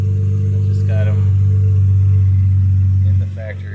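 A Dodge Charger SE V6 with true dual exhaust runs at a steady, deep idle, the rumble loud and close throughout before dropping off sharply near the end, with faint speech beneath.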